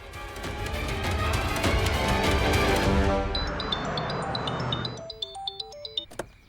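A phone ringtone chimes in short, clear, melodic beeps near the end, following a loud, busy stretch of dramatic background music that fades away.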